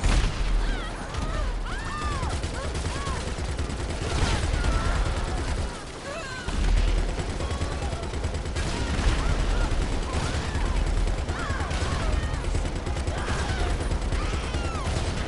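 Rapid gunfire and booming explosions fill a chaotic GTA Online firefight, dense and continuous apart from a brief lull, with players talking over the action.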